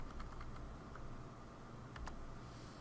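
Code is typed on a computer keyboard in a short burst of light key clicks, then a brief pause and a few more taps, faint beneath a steady background hiss.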